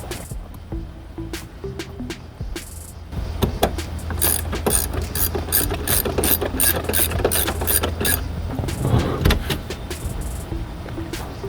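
A hand ratchet drives screws into a Jeep TJ center console, making a dense run of close, sharp clicks and mechanical whirring that continues throughout.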